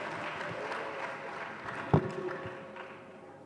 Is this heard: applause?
yes